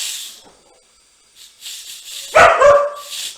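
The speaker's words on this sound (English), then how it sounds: "if there's some barking, I apologize in advance" A puppy gives two quick sharp barks at an Instant Pot that hisses steam as it releases pressure, close by and indoors.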